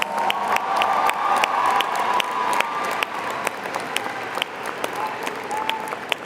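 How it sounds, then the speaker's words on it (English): A large audience at the Mesa Ridge High School 2023 graduation ceremony claps steadily and warmly for honored graduates, a dense sustained round of applause with a few cheers, gradually thinning toward the end. "Please give them another round of applause."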